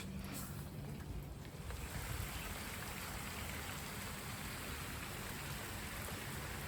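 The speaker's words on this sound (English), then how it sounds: "I just wanted to show you guys the rain system" An artificial rain system sprays water over a fish pond inside a bird aviary, giving a steady, soft, even hiss of falling droplets that runs throughout without pauses.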